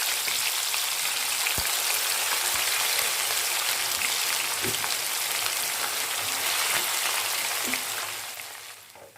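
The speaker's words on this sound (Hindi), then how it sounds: "इसे लो टू मीडियम फ्लेम पर फ्राइड चिकन टिक्का फ्राई करूँगी" Chicken tikka fries in oil in a pan over a low to medium flame, a dense, steady sizzle crackling continuously and close, fading out at the end.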